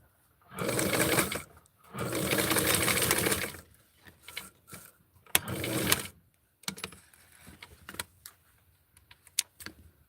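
Sewing machine stitching fabric for a Tutti Flower Power sewing project, running in two long close bursts, then shorter intermittent runs with handling clicks and pauses between.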